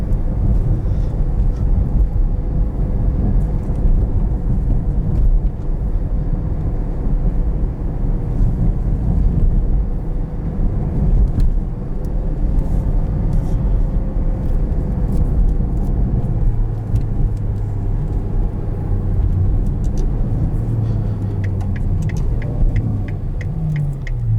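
A 2020 Ferrari GTC4Lusso's V12 drones steadily from inside the cabin while driving, a continuous loud rumble with wind noise that rises and falls in pitch, shifting tone near the end.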